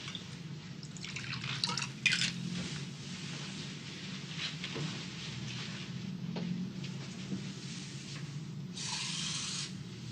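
Water is poured into a glass of whiskey indoors, giving faint drips and rubbing sounds early on and then a brief, brighter splashing trickle near the end over a quiet room hum.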